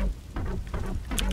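Rain patters steadily with low rolling thunder from a lightning storm in Red Alert 2, a short dense wash of noise with a brief brighter crackle near the end.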